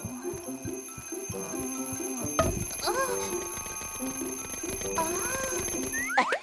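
Cartoon alarm clock rings in a rhythmic, repeated burst of metallic trills close up, with bouncy sound effects and a voice talking over it.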